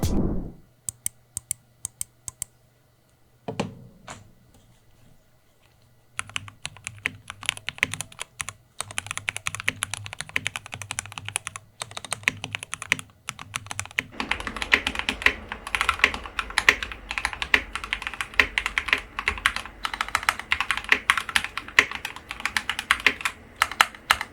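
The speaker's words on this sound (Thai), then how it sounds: "ลองไปฟังซาวเทสของ Keychron K8 Pro ตัวนี้กันดีกว่าครับ" Brisk typing on a Keychron K8 Pro wireless mechanical keyboard, keys clacking in quick irregular bursts after a few sparse taps, close and crisp.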